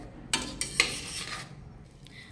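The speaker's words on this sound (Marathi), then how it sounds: "वरई तुपावर सतत हलवत साधारण 3 ते 4 मिनिटं परतून घेतलेली आहे।" A spoon stirs barnyard millet roasting in ghee in a pan, giving several sharp metallic scrapes and clinks close by, followed by a quieter grainy rustle.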